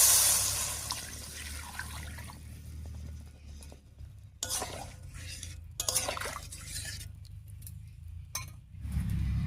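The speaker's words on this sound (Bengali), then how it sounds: "এবারে ঝোলের জন্য জল দিয়ে দেবো।" Water is poured into a pan of spiced potatoes for a rui fish curry broth, making a splashing, hissing pour over kitchen clatter, with clinks and utensil knocks nearby.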